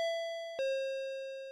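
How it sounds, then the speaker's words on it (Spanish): A two-tone electronic doorbell chimes in the video game Akai Onna, two clear, ringing notes struck about half a second apart, each decaying slowly in a quiet room. "Le están llamando al timbre,"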